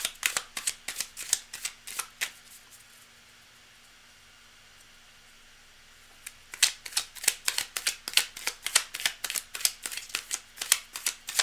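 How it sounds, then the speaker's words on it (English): A deck of reading cards is shuffled by hand in two bursts of rapid riffling clicks, close and crisp, with a quiet pause between them and no talk. "cards are well shuffled"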